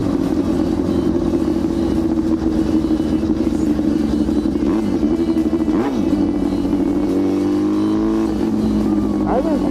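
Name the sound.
loud Yamaha R6 motorcycle engine while riding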